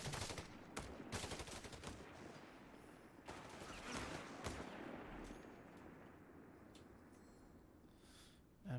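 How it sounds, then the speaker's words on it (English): M1 Garand rifles firing in the World War II video game Company of Heroes 3, a dense run of sharp shots and battle rumble, loud up close and then settling into a steadier roar. "Those M1 Garands."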